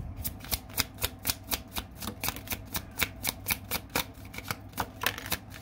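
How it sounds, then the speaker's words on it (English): A deck of tarot cards being shuffled close up, with a steady run of crisp riffling flutters repeating about every third of a second, loud and alone without any talk. "I'm going to pull cards from this deck by All Things Intuitive."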